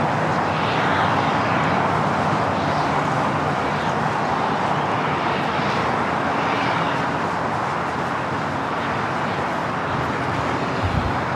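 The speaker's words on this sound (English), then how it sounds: "Another Allegiant A320." An Allegiant Airbus A320 jet landing at LAX, a broad steady roar of engines and rushing air that holds loud throughout, with distant traffic-like rumble beneath.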